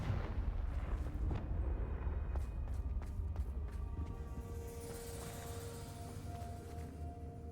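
A Confringo fire spell blast in the Hogwarts Legacy video game, a low rumbling burst followed by a quick cluster of sharp crackling hits, then a fading hum with a faint ringing tone.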